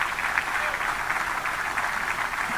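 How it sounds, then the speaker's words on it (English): A crowd at a 4-H livestock auction claps for a couple of seconds, a steady, moderately loud wash of hands without anyone speaking. "Give Governor Tim Walz and Tom Peterson a round of applause for being here."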